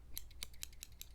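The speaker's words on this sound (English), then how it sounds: "Just giving a little bit of trim right here on the sideburn." Scissors snipping hair at the sideburn during a Beatle-style bowl haircut roleplay, a quick series of crisp close-up snips, soft and intimate.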